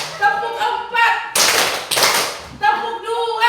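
Participants at an Indonesian teachers' workshop clap together in a counting clap game, a loud sustained burst of group clapping framed by short spoken calls before and after.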